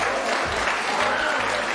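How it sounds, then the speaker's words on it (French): A short burst of dense, loud applause from a crowd at the end of a robotics competition final match, continuous clapping throughout. "on applaudit très fort ces deux équipes"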